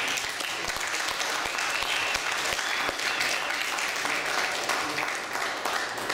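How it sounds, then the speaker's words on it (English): Audience applause for a speaker being welcomed to the stage at a VA Post speaking engagement, steady dense clapping filling the room throughout with a faint voice or two underneath. "let's give a round of applause for Leo Zagami"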